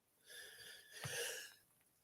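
A single short, breathy sneeze, fairly soft and close, with a brief sharp burst in the middle and no talk around it.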